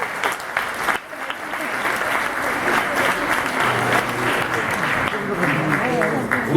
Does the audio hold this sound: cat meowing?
no